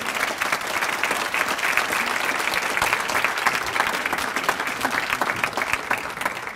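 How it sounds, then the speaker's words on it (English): An audience at a fall luncheon breaks into steady, sustained applause, a dense even patter of many hands clapping with no talk over it. "let's give them a round of applause"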